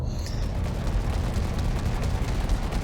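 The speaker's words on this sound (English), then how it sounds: "I like the fire rate increase on the huge multi-cannon a lot. That sounds awesome." Huge multi-cannon firing aboard the Cutter ship in a space combat video game, a dense continuous rumble of rapid booming shots that holds steady and loud for the full stretch with no talk.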